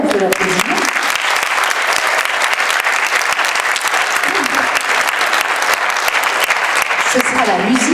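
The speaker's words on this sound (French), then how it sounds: "Christelle Demassieux et ses élèves, on peut l'applaudir." Sustained applause from an audience at a school event fills the whole stretch, dense and steady clapping with some crowd noise and faint voices underneath.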